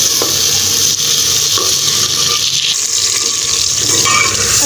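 Garlic ginger paste being stirred in a pot for pulao gives a steady wet sizzling hiss with faint scraping, continuous and close throughout.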